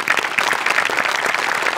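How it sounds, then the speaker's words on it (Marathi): An audience gives dense, steady applause at a Marathi comedy show, loud and continuous throughout with no pauses. "सगळ्यात आधी मोठे सरांसाठी खूप जोरदार टाळ्या व्हायला पाहिजेत"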